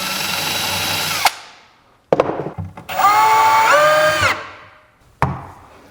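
A power drill drives screws into an undermount drawer slide on a wooden drawer box: two long, loud whirring bursts with short stops and sharp clicks between them, close by, with no talking.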